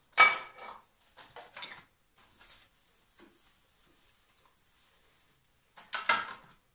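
Dishes clink and clatter in short bursts while being washed, plates and cutlery knocking together nearby, with quieter rattling and pauses in between.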